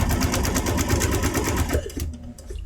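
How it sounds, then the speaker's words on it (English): A sewing machine stitching a short straight seam on a quilt block, a loud, steady mechanical whir with fast, even needle pulses that stops near the end. "you just give it a quick sew, stay on that line"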